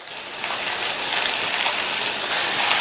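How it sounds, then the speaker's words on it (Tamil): Water poured into a freshly washed mixer-grinder jar while cooking a Tamil lunch, a steady close hiss and gush lasting the whole moment, with no talk. "மிக்ஸி ஜாரை கழுவி கொஞ்சமாக தண்ணி சேர்க்குறேன்"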